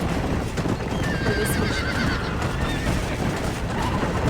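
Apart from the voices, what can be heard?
horses neighing and hooves clopping in Red Dead Redemption video game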